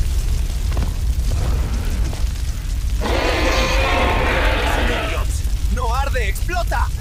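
A video game explosion bursts out as a loud, roaring blast lasting about two seconds mid-clip, with an excited voice shouting just after it.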